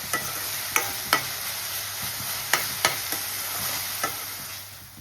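Onion paste frying in a pan for fish curry: a steady sizzle with sharp, irregular clinks and scrapes of a spoon stirring against the pan.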